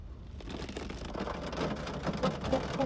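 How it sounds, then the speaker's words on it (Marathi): Heavy rain pours in a dense, continuous hiss on a road journey near Satara and Karad, steady and close with no speech. "खूप पाऊस."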